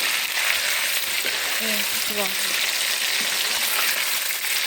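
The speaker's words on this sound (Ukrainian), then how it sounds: "І обсмажуємо наші риберця. Не солимо нічого, просто обсмажуємо." Pork ribs frying in hot oil in a kazan, a steady dense sizzle close up with faint stirring sounds in the background.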